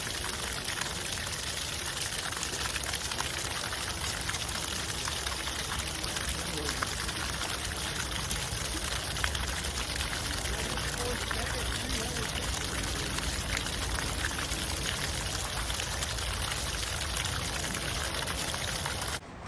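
Water gushes from a hose into a 5-gallon bucket in a steady, loud, continuous rush with a bright splashing hiss, while people talk intermittently over it.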